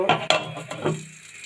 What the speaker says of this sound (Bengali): ঢাকনা দিয়ে রেখে দিব